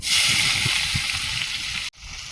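Bitter gourd and potato sizzle in hot oil in a pan with a steady, close hiss and a few soft stirring knocks, before a sudden cut near the end.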